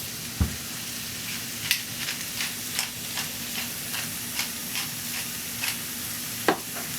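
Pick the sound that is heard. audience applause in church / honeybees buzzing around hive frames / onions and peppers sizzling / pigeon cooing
onions and peppers sizzling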